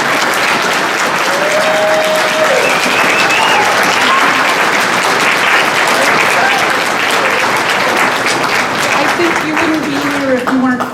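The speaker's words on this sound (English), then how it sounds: "Can you give them a round of applause?" A crowd applauds steadily for several seconds, dense continuous clapping that fills the room, with voices faintly under it.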